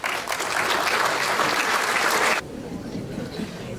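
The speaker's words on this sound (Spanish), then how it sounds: "Quiero ahora sí invitar con un fuerte aplauso," An audience claps loudly to welcome Professor Henry Morray to the front at a town hall gathering, a thick continuous ovation that stops abruptly partway through and leaves only quiet room tone.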